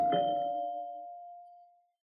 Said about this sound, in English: I don't think that doorbell took the first time.